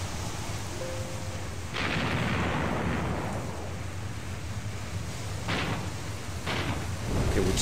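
Naval gunfire from German Kriegsmarine warships in the game Naval Campaigns: several booming shots, widely spaced and then closer together, each with a long rumbling tail over a constant low drone.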